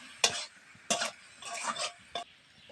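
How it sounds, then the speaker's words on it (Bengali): Raw mango pickle with garlic and chili powder stirred in a pan: four or five distinct scraping, clattering strokes of a spoon against metal over a light sizzle, close and moderately loud. "সামান্য লঙ্কার গুঁড়ো দিয়ে নাড়াছাড়া দিয়ে নেবো"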